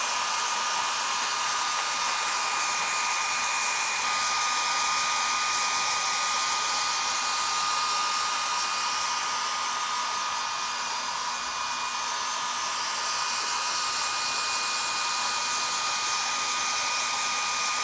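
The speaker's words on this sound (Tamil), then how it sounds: "ஸோ அதை செலுத்துறதுக்கு நான் வந்து ஹேர் ட்ரையரை பயன்படுத்துகிறேன்." A hair dryer blasts high-velocity air over the top of a sheet of paper, giving a loud, constant, close-up rushing roar with a steady whine that runs unbroken and without talk.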